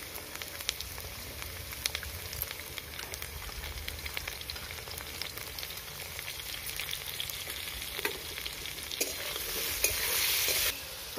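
Potatoes fry in oil in a pan with a steady crackling sizzle and occasional scraping stirs, growing louder near the end; a voice briefly speaks.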